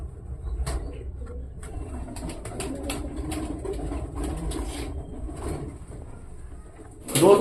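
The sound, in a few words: Kake Wali breed pigeons cooing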